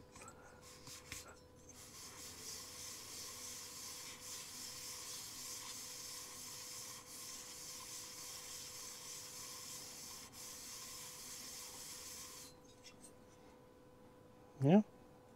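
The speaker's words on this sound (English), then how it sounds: "little soap and water, 400 grit, wet and dry paper." Wet sanding of a Suzuki TC90 motorcycle cylinder with 400 grit wet and dry paper and a little soap and water, a steady close rubbing scrub running for about twelve seconds, then stopping before a brief sharp knock.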